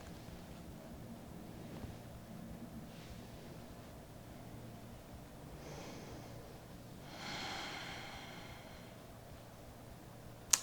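Slow, quiet breathing during a trauma-informed yoga practice, a few soft drawn-out breaths with a longer airy exhale near the end, close and gentle over a faint background hiss, no talking.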